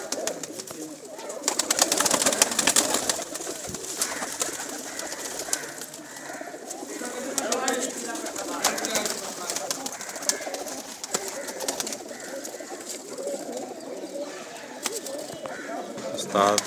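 Many pigeons crowd a village rooftop loft, their cooing and fluttering forming a dense, continuous chorus, with voices talking nearby throughout.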